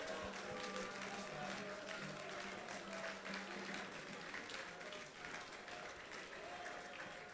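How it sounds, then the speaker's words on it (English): A quiz final audience applauds a school team, producing a continuous, fairly faint wash of clapping that stays steady the whole time, with a low hum underneath. "a round of applause to St. Augustine's College"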